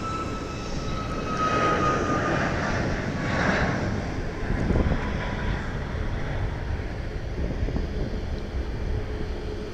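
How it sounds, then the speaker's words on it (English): An airplane engine at Dallas Love Field airport rumbles at a distance in a steady, broad roar with wind buffeting, swelling slightly at moments without any clear passing peak. "There's a plane over there somewhere."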